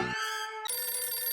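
A telephone ringtone chimes out clearly and close, a short electronic tone that shifts pitch partway through, with no voices present.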